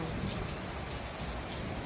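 Heavy rain pours down steadily, a dense, loud hiss of drops hitting surfaces with no pauses.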